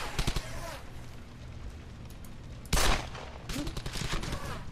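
Pistol gunfire from the World War II shooter Brothers in Arms: Hell's Highway comes as scattered sharp shots and short bursts over a rumbling battlefield bed, with one loud blast midway and game voices in the background.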